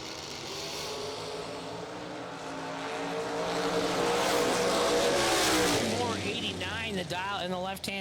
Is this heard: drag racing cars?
yes